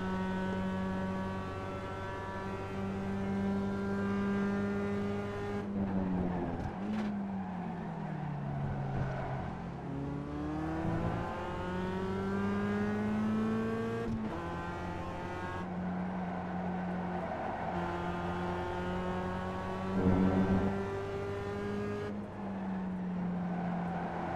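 Mazda MX-5 race car engine at Laguna Seca in iRacing, a loud steady in-car drone that drops and climbs through repeated gear changes and a missed shift, without any speech.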